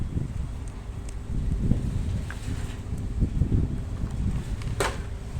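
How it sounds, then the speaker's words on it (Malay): Strong wind blows outdoors as a steady, rough rumbling roar of buffeting against the microphone, with faint scattered rustles and clicks and no talking. "angin kuat tak apa"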